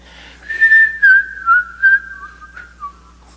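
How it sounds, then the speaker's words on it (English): A person whistling a tune, a clear close melody of short rising and falling notes with brief pauses, alone in a quiet room. "I can only breathe in when I whistle with a microphone on"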